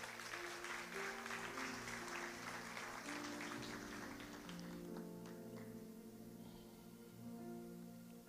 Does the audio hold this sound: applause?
yes